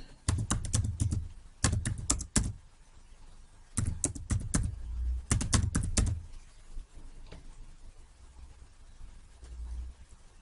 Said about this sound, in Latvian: Un rakstu savu kartes numuru.